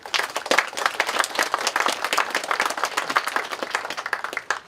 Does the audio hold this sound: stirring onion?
no